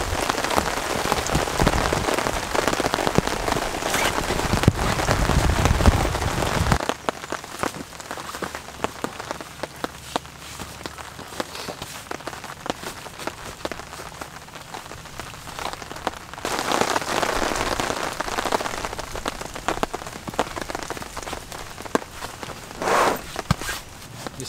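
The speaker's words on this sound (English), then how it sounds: "try and brave this rain and walk back out of it" Steady heavy rain pours on a campsite with a traditional Australian swag throughout, easing for a stretch in the middle before returning strongly, with occasional soft rustles and steps beneath it.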